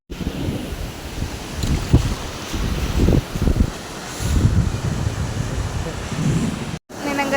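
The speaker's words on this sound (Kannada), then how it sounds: "ಅಲ್ಲಿಂದ ವೇವ್ಸ್ ಚೆನ್ನಾಗಿ ಬರ್ತಿದಲ್ಲ." Ocean waves surging and breaking on a beach during the monsoon in Kerala, a continuous wash of surf mixed with gusty wind buffeting the microphone, with soft voices faintly beneath.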